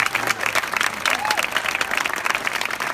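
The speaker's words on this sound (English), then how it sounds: "Let's give another big round of applause for all of the 2017 Cal Travel Award recipients" An audience applauds after an acceptance speech at the 2017 California Cultural Tourism awards, a dense, steady roomful of clapping with a faint voice briefly audible beneath it.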